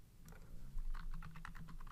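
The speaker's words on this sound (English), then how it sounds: "and I type" Computer keyboard keys clatter in a quick irregular burst of clicks, a handful of close taps coming faster toward the end, with low background hum and no talking.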